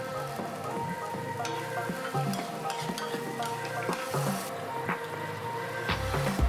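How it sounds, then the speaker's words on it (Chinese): Pig's feet are stir-fried in dark soy sauce in a wok, with a close, continuous sizzle broken by repeated scraping and clattering stirs. "翻炒到酱色均匀。"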